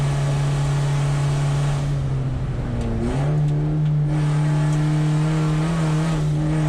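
A VW Jetta GLI Super Touring Car on track at Thunder Hill Raceway drones loudly up close, its steady engine tone dipping and sliding back up through a gear change before holding a strong, even pitch.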